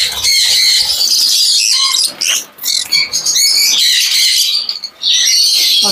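Lovebirds squawk and screech in shrill, rapid bursts while being handled by hand at a bird farm, loud and close, with brief pauses between flurries of calls.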